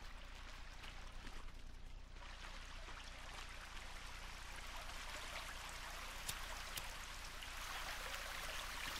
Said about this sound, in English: Sounds like there's a waterfall over here.